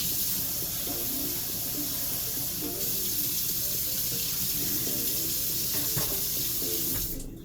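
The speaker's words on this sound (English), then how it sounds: "Rinse this out." Water runs from a kitchen tap while something is rinsed out during instant laksa noodle preparation, a steady close hiss and splash that changes slightly near the end.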